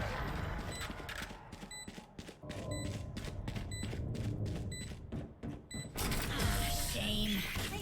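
In a college Valorant match, rapid rhythmic spike beeps build and then give way to a rumbling blast near the end, with commentators talking over the game sounds.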